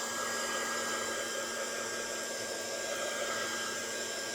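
A heat gun drying Distress Oxide ink on a craft project blows with a steady, loud, continuous whir and a faint high whine, with no talking.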